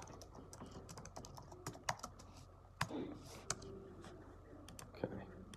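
Computer keyboard typing in a burst of irregular clicks and key taps while text is erased, close and moderately loud against a quiet room.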